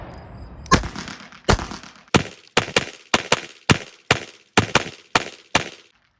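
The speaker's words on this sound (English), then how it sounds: "let's take it off safety as we come up to shoot, and pull double action and then go to single action" Eleven loud, sharp shots from a Beretta 80x pistol using ball ammunition. The first two come with slow, deliberate spacing, then the rest follow in a quicker, fairly steady rhythm, each crack echoing briefly.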